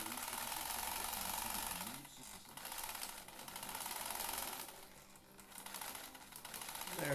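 A Singer Featherweight 222K sewing machine stitches fabric in steady whirring bursts, pausing twice between runs, close and fairly quiet, with a person speaking over parts of it.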